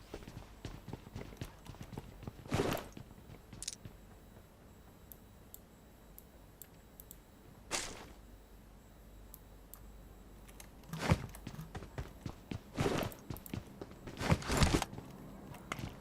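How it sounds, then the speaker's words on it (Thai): Game footsteps in PUBG Mobile, a steady stream of quick, soft tapping clicks, with a few louder bursts scattered through, heard close and without talk. "ได้ยินเสียงตีนว่ะ"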